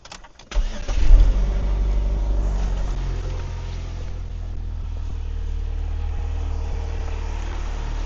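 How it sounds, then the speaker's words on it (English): A 2006 Pontiac Solstice with a bad alternator cranks and fires up. A brief starter whir swells into a loud engine roar, which then settles into a steady, droning idle. "I'm going to rev the car"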